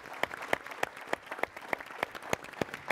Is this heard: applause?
yes